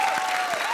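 Applause from a comedy show audience, a steady dense wash of clapping across a brief moment, with a faint tonal sweep running beneath it.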